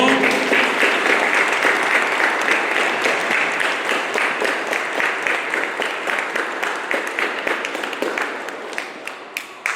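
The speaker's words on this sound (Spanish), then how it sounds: "Un aplauso fuerte a la Virgen y a San Juan Diego." A crowd claps vigorously at a religious festival for the Virgin of Guadalupe in Oaxaca, Mexico, in sustained applause that gradually thins out and fades toward the end.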